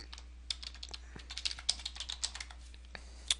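Password being typed on a computer keyboard during a forum software install: a quick, uneven run of close, crisp key clicks over a low steady hum, with no talking.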